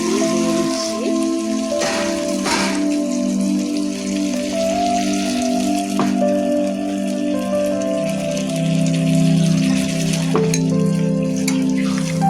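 Spice masala frying in a pan for a mixed-fish curry, a steady close crackling sizzle that runs loud and unbroken throughout, with faint stirring scrapes and no talk.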